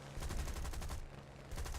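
Spitfire plane cannons firing in a video game, rapid rattling bursts of automatic fire, loud and close, with a brief lull before the shooting resumes.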